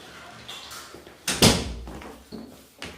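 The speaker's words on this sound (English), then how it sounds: "I'm going to close the door real quick." A door in a home with noisy kids nearby is pushed shut, giving one solid thud near the middle amid a few lighter knocks and rustles, close and fairly loud.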